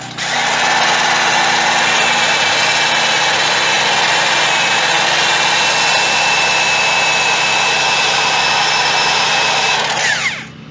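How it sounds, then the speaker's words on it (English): A power drill with a polishing pad buffing the headlight of a 2003 Hyundai Tiburon, running as a loud, sustained high-pitched whine for about ten seconds before it winds down, with no voices. "Pardon the drill noise, but here we go."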